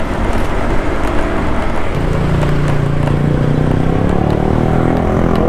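Motorcycle overtaking a motorized tricycle on a road, a loud, continuous engine drone mixed with rushing wind noise, the pitch climbing steadily as the rider accelerates past, with no talking.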